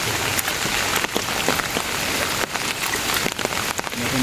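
Heavy rain falling on a village wetland with water lilies during fishing, a dense, continuous close patter of drops hitting surfaces, loud and unbroken throughout with no voices.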